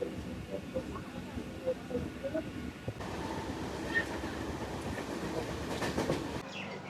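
Canning local train at platform 15 of Sealdah station, a low steady rumble of rail cars with light clatter, fairly faint, as people talk nearby.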